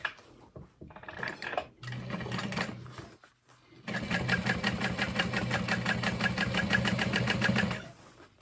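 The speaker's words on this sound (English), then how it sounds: "Top stitching through the bottom panel." A sewing machine topstitches through the bottom panel of a fabric tote bag in a rapid, rhythmic mechanical patter, close and clear, with a brief run before a short pause and then a longer continuous run.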